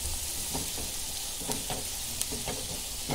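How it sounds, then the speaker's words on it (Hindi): Chopped onions fry with salt in a pan, a steady close sizzle broken by repeated scraping stirs from a spoon. "अभी प्याज को नरम करेंगे।"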